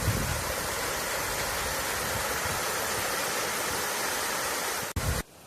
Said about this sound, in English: You can see the falls behind me right there.